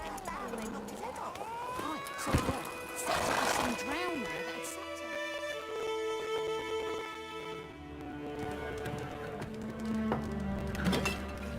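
Geralt's horse Roach trots in The Witcher 3, with hoof clip-clops moving beneath game music and people talking, at a moderate level with occasional clinking sounds.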